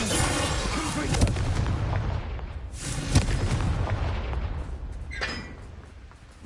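Bombarda explosion spell cast in Hogwarts Legacy, with booming blasts and bursts at intervals over a dense, rumbling battle din, several sharper hits standing out loudly in the mix.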